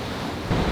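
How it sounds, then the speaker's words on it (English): A fast-flowing waterfall at Petit Jean State Park in the Arkansas Ozarks, a loud, continuous close rush of falling water that swells louder midway. "I think we found us a waterfall. Hopefully you can hear me because it's kind of loud right now."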